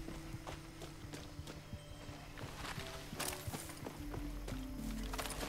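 Rhythmic horse hoofbeats in Far Cry 6 clip-clop at a steady walking pace over a low mechanical hum, with a few brighter clanks mixed in.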